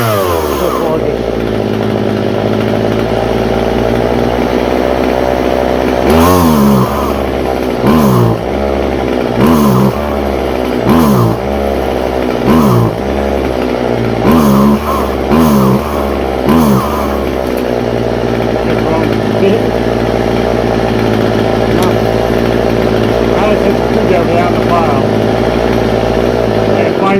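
Neglected chainsaw idling loudly up close, then revved repeatedly in a series of sharp throttle bursts before settling back to a steady idle.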